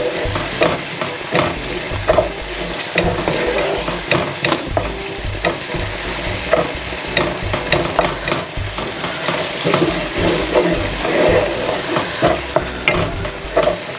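Spice paste sautéing in oil for a Sheela fish (barracuda) curry, with a steady loud sizzle and frequent stirring scrapes throughout, no voices.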